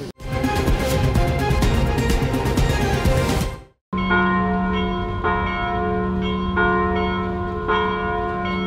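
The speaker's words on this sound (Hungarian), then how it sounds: "rendkívüli ünnepre hívták a híveket a Munkácsi Szent Márton Székesegyház harangjai, ugyanis december 2-án került sor Lucsok Mik" Cathedral bells of St. Martin's in Mukachevo ring out, first a dense, loud clangor of several bells, then after a brief gap a clearer sequence of resonant strikes with long ringing hum.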